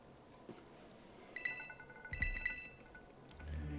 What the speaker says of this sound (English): Oh, now my phone is ringing.